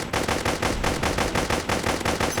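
Rapid, continuous gunfire from the mobile shooter game Pixel Gun 3D, a dense automatic stream of shots at steady close volume with no speech.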